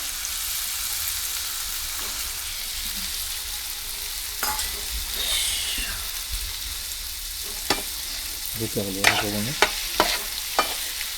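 Prawns and potatoes cook together in a pan on a wood-fired stove, giving a steady soft sizzle with occasional scraping stirs and clinks of a utensil, near and without talk.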